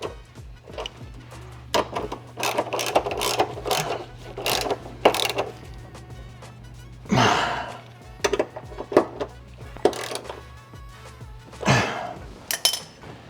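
Ratchet wrench tightening the Perrin driveshaft carrier bushing bolts on a 2020 Subaru WRX, in repeated bursts of quick clicking strokes close by, with short pauses between runs and a low steady hum underneath.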